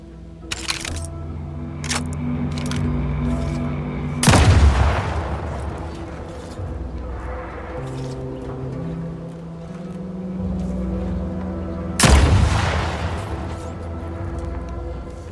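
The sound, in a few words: gunfire from a gun in the video game The Outer Worlds 2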